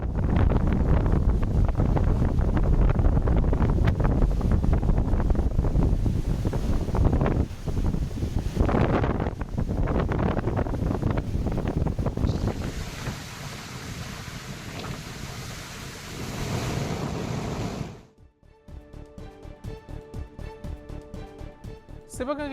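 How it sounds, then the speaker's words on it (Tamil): Rough, churning sea at Pamban near Rameswaram, with a loud, steady roar of waves and strong wind buffeting the microphone for most of the stretch, then easing to a lower rumble near the end. "ராமேஸ்வரம் அருகே உள்ள பாம்பன் கடல் பகுதியில் கடல் கொந்தளிப்புடன் அலைகள் ஆக்ரோஷமாக எழுந்து வருகிறது"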